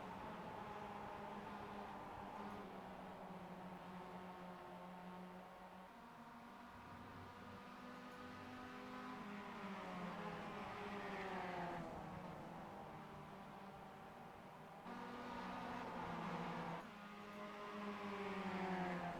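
Mazda MX-5 race cars in a racing game battle at Watkins Glen, their engines droning and rising through gear changes in a faint, continuous wail of several overlapping cars.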